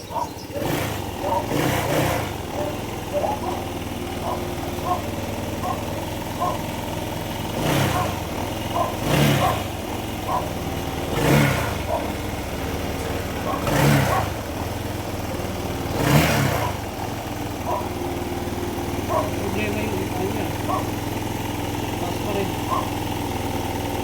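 A Honda PCX 160 scooter engine idles steadily and close by, with a fault that makes the idle drop. Several sharp bursts break in over the low hum, and no one speaks.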